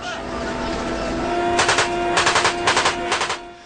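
Rapid bursts of automatic gunfire from ISIS militants besieging a mountain, three or four short volleys in quick succession, loud and fairly close over a background hum.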